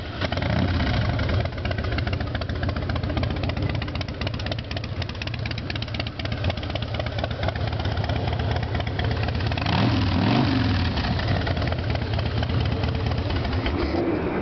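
A 2003 Harley-Davidson Softail Deuce with Vance & Hines pipes idles steadily and loudly up close, a deep rumbling, uneven throb that holds throughout with no voices.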